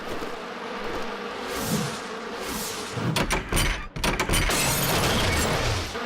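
A swarm of big cartoon bees buzzes in a dinosaur cartoon, a steady loud drone broken by sharp clattering hits and swells of buzzing that return and hold to the end.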